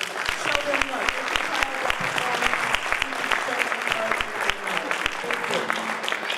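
Audience applause for a children's dance performance at a community cultural center's annual Martin Luther King Jr. celebration: dense, steady clapping from a crowd, sustained throughout with a few sharper individual claps standing out.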